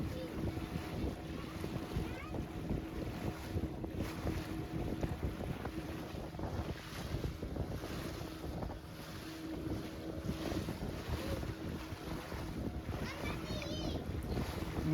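A boat ride off Arambol Beach in Goa, with a constant low engine rumble, wind noise on the microphone and faint water sounds throughout, with soft background voices.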